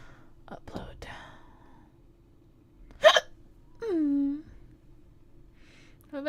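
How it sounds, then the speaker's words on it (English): A person hiccups a few times, sharp isolated catches of breath with faint whispering and quiet breathing between them. "I think I got hiccups."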